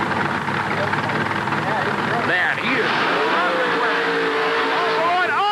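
A monster truck engine roars loudly and continuously during a racing run at a USHRA event in Pittsburgh in 1988, with excited commentary heard over the engine throughout.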